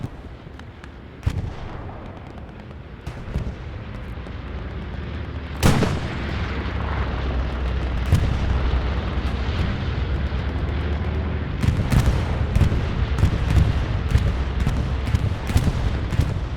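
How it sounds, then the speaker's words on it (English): Bombing runs on Omaha Beach in a competitive match of a World War II video game: continuous rumbling barrage with several sharp, loud blasts scattered through and a dense cluster of booms near the end. "This is a blind bombing from Omen for sure."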